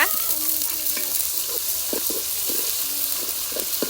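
Garlic and ginger paste sizzles and fries in a pan while being stirred, with a steady bright hiss and occasional scraping and clinking from the spoon, close and fairly loud, with no talking.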